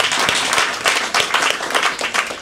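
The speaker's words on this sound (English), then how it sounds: "And applause for Alexandra." An audience at a speech contest gives steady applause for the sergeant at arms, dense clapping near and continuous throughout.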